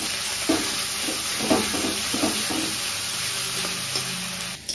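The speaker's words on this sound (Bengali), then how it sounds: "তো এবার আমি এটাকে সুন্দর করে আর একটু ভেজে নেব মশলাটা।" Stone-ground spice paste fries and is stirred in a pan for mutton curry, giving a steady close sizzle broken by repeated scraping strokes of the spoon, with no talking.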